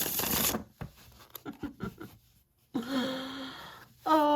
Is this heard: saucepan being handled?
no